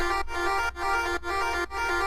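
Synthesizer arpeggio with a bright, buzzy, harmonically rich square-wave tone, repeating in four even pulses with short gaps between them, played alone.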